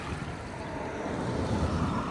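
Water is dumped out of a heavy, full trash bin outdoors, giving a steady rushing splash and gush that lasts a couple of seconds and swells slightly toward the end.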